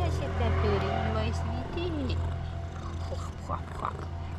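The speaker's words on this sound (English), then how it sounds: "She's purring to babies." A tuxedo cat purrs loudly while being petted, a steady low rumble running through the whole stretch beneath a woman's soft, affectionate talk.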